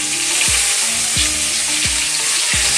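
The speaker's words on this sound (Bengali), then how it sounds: "তো এবার একে একে আমি বেগুনগুলো ছেড়ে দেবো" Whole eggplants with stalks left on sizzle loudly in hot oil in a pan, a steady close frying hiss with a few stirring scrapes and low thumps at regular intervals; no voices.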